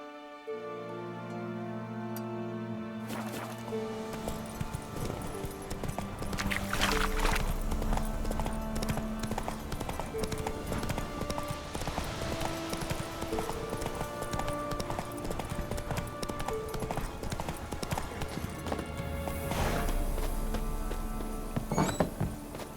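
A horse galloping in The Witcher 3, with rapid, steady hoofbeats pounding on and on over in-game ambience and music tones, with a couple of louder whooshing swells.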